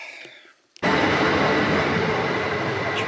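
A train passes close by: after a quiet moment a sudden loud, broadband rumble of rail cars sets in at under one second and holds steady to the end, with no talk over it.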